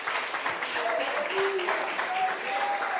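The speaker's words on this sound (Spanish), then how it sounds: "Aplauda, no se le está prohibiendo aplaudir" A church congregation applauds during a sermon, a sustained crowd clapping mixed with voices and a few whistles or calls.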